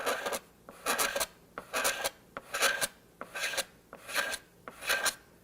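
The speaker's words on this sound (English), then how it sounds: "The purpose of this is just to get the high spots of the superglue down." A razor blade scrapes cured superglue finish on a guitar in six rhythmic, close, raspy strokes, each a bright scratchy burst separated by short pauses, with no voices.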